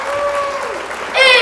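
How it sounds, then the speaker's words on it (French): An audience at a children's gathering of the Shluchim in Paris breaks into applause that swells near the end, while someone speaking French continues over the clapping. "Applaudissons tous ensemble tous les Shluchim"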